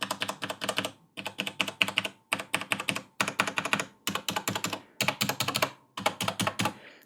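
Roccat Ryos mechanical keyboard with Cherry MX Black switches, keys bottomed out in seven quick bursts of sharp, clacky typing, each run of rapid strokes separated by short silences, close and loud.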